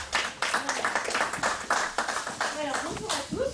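An audience claps at the start of a lecture on magnetism for writing information, brisk rhythmic applause from a fairly small group, with speech over it.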